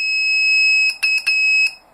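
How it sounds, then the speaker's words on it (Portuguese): A 12-volt 5-pin relay alarm sounding once its power is cut: a loud, steady high-pitched beep about a second long, then a few short stuttering beeps before it stops. "Ele vai apitar quando eu tirar a alimentação de 12 volts do relé."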